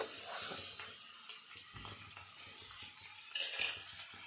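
Chopped onion and brinjal sizzling in hot oil in a home kitchen pan, stirred with a utensil that scrapes and clinks in short bursts, close and fairly quiet.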